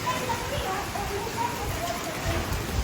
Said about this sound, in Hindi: तो भाई ओले पड़ने लगे मोटे मोटे बहुत।